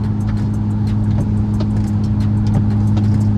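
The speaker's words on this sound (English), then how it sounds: "This is how it is to just drive on the freeway with this loud ass straight pipe" Deep, steady engine drone of a Hellcat with a straight-pipe exhaust cruising on the freeway, loud and continuous from inside the cabin with a strong low rumble and road noise.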